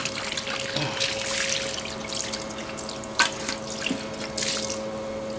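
Parts washer running cleaning solution over parts, a steady close trickle and splash of liquid with a few sharper drips, faint and without talking.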